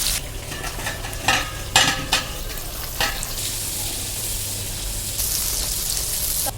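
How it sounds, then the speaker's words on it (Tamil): Half a kilo of large onions, chillies, curry leaves and spices sauté in oil for a chicken gravy, giving a steady close hiss of frying with several sharp scrapes and stirs early on, alone without voices. "வெங்காயம் வந்து நல்லா பொன்னிறமா வரணும் அந்த அளவுக்கு நல்லா வதக்கி விட்டுக்கலாம்"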